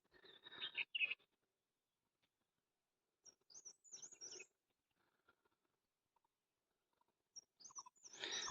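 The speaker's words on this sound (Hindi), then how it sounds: "और ये देखिए, हमारे घर पे आई हैं कुछ चिड़िया, जिनको सुबह सुबह दाना डाला जाता है।" Small birds chirping at their morning feeding spot at home on a foggy day, with brief high twittering calls and light pecking or rustling noises in scattered bursts separated by near silence.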